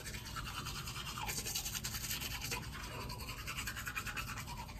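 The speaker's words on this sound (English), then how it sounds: "brush my teeth" Close, steady scrubbing of a toothbrush against teeth, rapid back-and-forth strokes filling the moment with brushy hiss, no speech.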